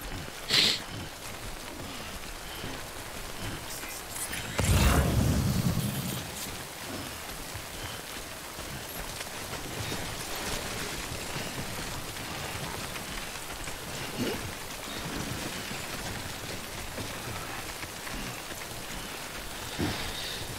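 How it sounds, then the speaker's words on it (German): Steady rain pours down in the video game Death Stranding, a continuous broadband hiss lasting throughout, with a brief louder low rumble partway through and no talk over it. "heute regnet es aber oft hier"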